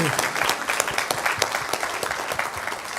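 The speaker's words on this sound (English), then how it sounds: "You can clap yourselves now, we're at the end." Lecture audience claps at the close of a memorial lecture, a thick, continuous wash of many hands, close and fairly loud throughout the short stretch with crisp individual claps popping out of the mass.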